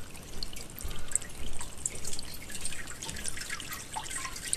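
An aquaponics bell siphon in a grow bed of hydroton clay pebbles kicks on, with close, continuous trickling, dripping and gurgling water draining throughout.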